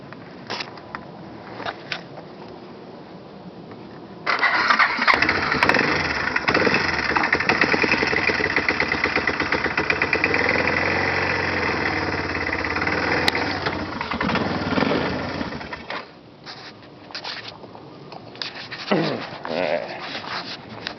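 A small engine is cranked with the choke partly pulled, catches and runs at a loud, rough, steady idle for about ten seconds before dying down, with someone talking briefly around it.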